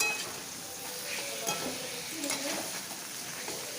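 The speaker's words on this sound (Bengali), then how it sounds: "আদা বাটাটা দিয়ে একটু নেড়ে চেড়ে জল দিয়ে দেবো," Ginger paste being stirred into a frying pan of cooking greens, with a continuous sizzle and occasional scraping stirs of a utensil against the pan, close and moderately loud.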